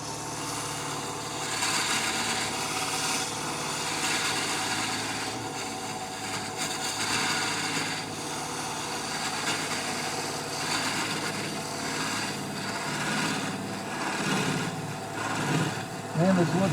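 Steady whirring of a wood lathe turning a wooden cylindrical box, with a knife cutting the spinning wood, holding at an even, moderately loud level throughout with a brief louder scrape near the end.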